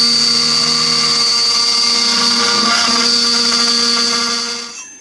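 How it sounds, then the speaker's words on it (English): A CNC machine cuts wood with a 2-flute standard router bit, a steady loud whine with strong tonal harmonics holding for several seconds before fading at the end. "I put this on the CNC machine, and it very slowly, using this wood cutting bit, it's a 2-flute standard wood router bit"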